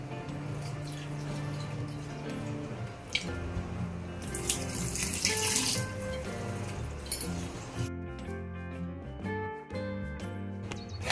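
Water runs from a kitchen tap while cut ridge gourd is set to soak, with a steady stream and occasional light clinks of a vessel, moderately close and without talk.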